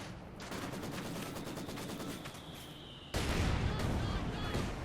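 Sustained machine gun fire rattles in Company of Heroes 2, a dense rapid burst that carries on, then a louder, heavier barrage of gunfire cuts in near the end.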